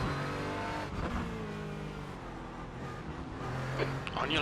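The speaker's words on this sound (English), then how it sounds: "Take care, there's a car approaching." Race car engines in a racing video game, a dense, continuous roar with shifting engine pitch as another car draws close, loud and steady with a voice partly underneath.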